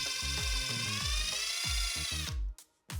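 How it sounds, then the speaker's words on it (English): Power drill boring a hole through the center of a cut piece of hot glue stick, a loud high whine with bumpy low chatter that cuts off abruptly near the end, then briefly starts again. "Now we're going to snip off a piece of the glue stick and drill a hole through the center of it."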